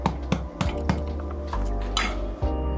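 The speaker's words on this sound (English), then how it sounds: "I'm going to give it a couple of taps" A metal loaf pan holding a chocolate loaf cake is tapped several times to release the cake, giving sharp, close metallic knocks and clinks in an uneven rhythm with no talking.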